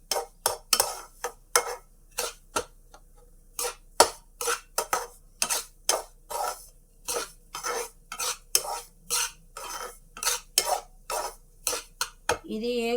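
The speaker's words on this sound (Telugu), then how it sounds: "ఇలాగా బాగా వేయించుకోవాలి ఫ్రెండ్స్" A spatula scrapes a pan while coconut laddoo mixture is roasted, with about twenty distinct strokes in an uneven rhythm, close and clear.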